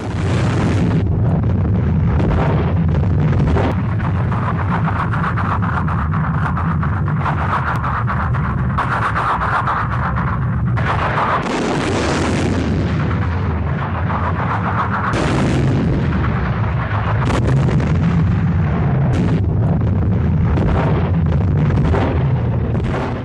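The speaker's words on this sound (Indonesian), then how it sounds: "Langkah antisipasi awal ini dimulai dari voli artileri dan peluncuran roket Katyusha menghujani" Artillery volley mixed with a Katyusha rocket barrage, continuous loud rumbling booms and roaring launches piling over one another for over twenty seconds, with no voices.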